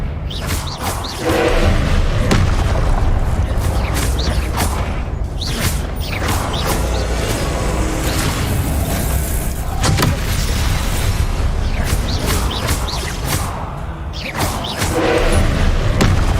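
Magical spell blasts and fiery Confringo explosions from the Hogwarts Legacy video game, a loud, continuous run of booming impacts and sharp bursts stacked close together with no pause.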